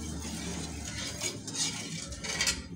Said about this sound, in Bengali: সব উপকরণ একসঙ্গে ভালো করে মিশিয়ে নেব